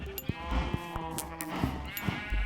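Sheep in the Minecraft video game bleat several times in short, nasal calls over a low ambient game background.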